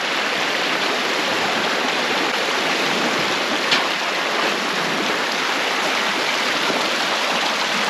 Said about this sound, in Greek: να σε δείξω κάπου που τρέχει νερό στη θάλασσα